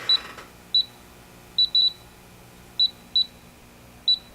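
Radiation detector near radioactive potassium, giving seven short separate clicks or chirps at irregular intervals over a low hum.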